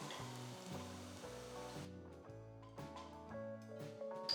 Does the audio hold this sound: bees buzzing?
no